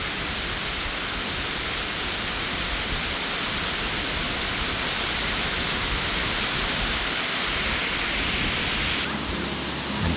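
Water roars steadily over a waterfall at Crowsnest Pass, a dense, constant, close rush without a break. It ends abruptly just before the clip's end, and no one speaks over it.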